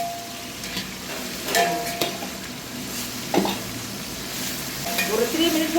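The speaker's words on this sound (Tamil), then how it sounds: "ஒரு 3 மினிட்ஸ் வதக்கி விட்டுடலாம்." Ginger garlic paste sizzling in a pan as biryani is cooked at home, a steady frying hiss with occasional stirring scrapes and light clinks of utensil on metal.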